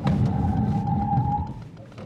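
An Opel Astra GSe brakes hard from speed, giving a sustained high squeal over a low rumble that holds for over a second and then fades as the car slows.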